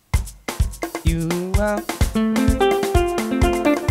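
Keyboard playing makossa chord progression over a drum beat, punchy kick hits under bright sustained chords that shift step by step, steady groove, close and clear, with a brief spoken word over it.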